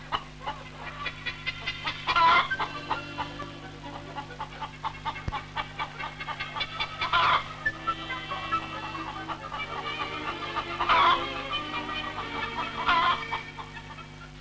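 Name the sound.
pedigree laying hens in poultry farm trap nests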